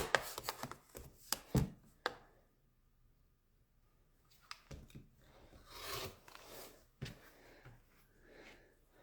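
Scissors or a cutter trims pieces of quilt fabric with several close crisp snips and rasping cuts, then a pause and some softer rustling and handling of the cloth.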